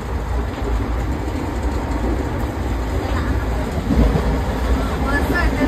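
A fast-moving train on a rainy day gives a loud, steady rumble and rushing noise that stays constant, with no clear speech.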